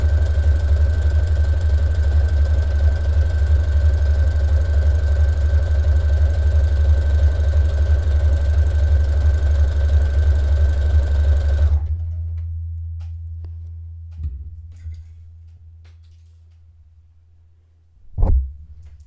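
A sewing machine stitching fabric for a kirtle-inspired dress runs in a steady, loud, close motor whir for about twelve seconds, then stops, leaving quiet handling noises and one soft thump.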